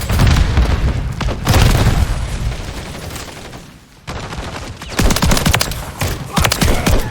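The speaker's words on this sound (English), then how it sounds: "Stun grenade." Stun grenade detonating in Call of Duty Modern Warfare 3 team deathmatch on the Stash House map, a loud booming blast followed by bursts of gunfire and heavy crackling in a dense, close battle mix with no talk.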